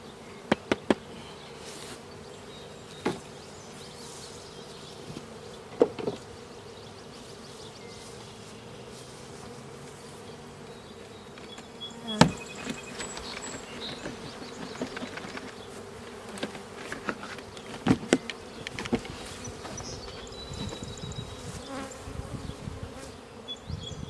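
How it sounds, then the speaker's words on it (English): Honey bees buzzing steadily around an open hive while the second honey supers are added in July, a dense continuous drone with scattered clicks and knocks of handling throughout. "I shook the bees in."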